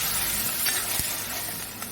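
Water poured into a pan of frying chilli chicken on a gas flame turned low, giving a steady, loud, hissing sizzle that runs throughout, with a brief low thump near the middle.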